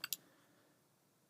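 Two quick, faint mouse clicks sound close together on a Mac, then only quiet room tone.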